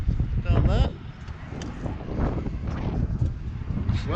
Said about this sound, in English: It's well windy here.